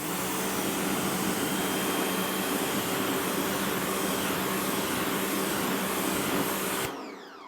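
A pressure washer gives a car a final rinse, including the wheel nut holes, producing a loud, steady broadband hiss and roar of spraying water that runs continuously, then cuts off abruptly near the end.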